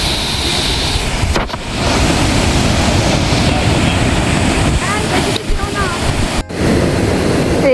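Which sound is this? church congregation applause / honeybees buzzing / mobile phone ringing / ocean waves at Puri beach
ocean waves at Puri beach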